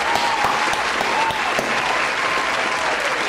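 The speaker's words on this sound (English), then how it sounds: "round of applause for me. Round of applause." Steady applause from a sizeable crowd fills the whole stretch, loud and continuous with no pause, celebrating correct college picks in a Madden 19 Buffalo Bills franchise.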